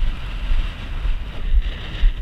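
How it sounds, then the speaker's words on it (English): Strong wind buffets the microphone in loud, rumbling gusts, with a steady rushing hiss over the low roar, at an off-grid wind turbine site. "Ooh, she's a windy one, boys."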